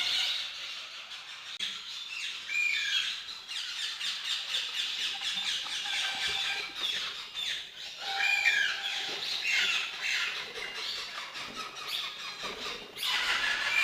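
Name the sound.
moustached parakeets squawking at an exotic bird breeder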